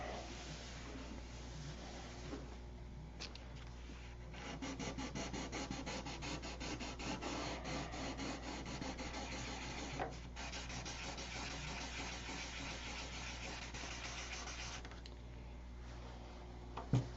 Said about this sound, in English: add a coat of clear and then sand it again